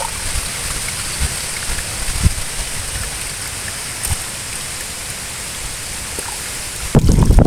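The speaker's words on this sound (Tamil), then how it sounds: "பூவை நல்லா அலசிக்கிடுவோம்" Tamarind flowers are rinsed by hand in water, making a steady, close sloshing and dripping patter that ends with a louder splash.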